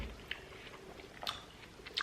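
A bite of fresh watermelon eaten close up, soft wet chewing with a few crisp crunches spread across a quiet moment.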